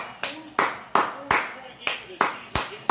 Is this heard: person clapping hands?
yes